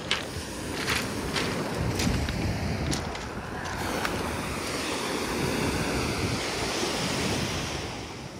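Sea waves wash onto the shore at Adler on the Black Sea coast, a continuous broad surf rush with wind buffeting the microphone and a few sharper splashes early on.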